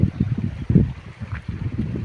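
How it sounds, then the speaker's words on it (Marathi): A gurgling stream runs beside a riverside field during the monsoon, close and lively, its water bubbling in uneven pulsing bursts. "खळखळ आवाज लागला."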